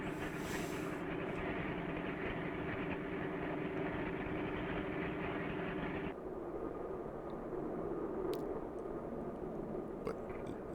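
A car engine in the film Monster a Go-Go rumbles steadily, then its sound abruptly drops away partway through, leaving a thinner, duller background noise.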